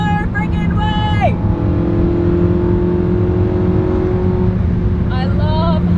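Porsche 918 hybrid hypercar launching, a loud close engine surging and accelerating in a rising whine that shifts and then holds a steady roar, with voices faintly mixed in.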